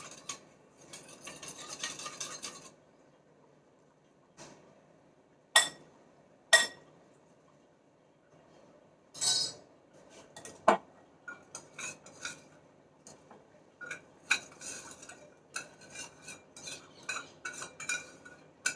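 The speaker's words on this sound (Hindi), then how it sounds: "ये सारा अच्छे से मिक्स कर लेना है।" Spoons clinking against a bowl while a three bean salad of chickpeas, kidney beans and green beans is stirred, a series of scattered sharp metallic taps and scrapes at close range, with no talking.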